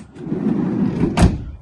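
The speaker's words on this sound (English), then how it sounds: "Single sliding door." The sliding side door of a 2018 VW Caddy Highline van rolls along its track with a low rumble, then slams shut with one loud, sharp thud near the end.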